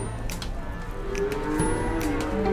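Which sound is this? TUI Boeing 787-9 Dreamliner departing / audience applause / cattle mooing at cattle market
cattle mooing at cattle market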